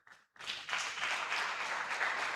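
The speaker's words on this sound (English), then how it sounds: "another round of applause for CFI services" Conference audience applause at an urban-design event, a brief quiet gap then a dense, steady wash of many hands clapping that builds and holds at moderate loudness.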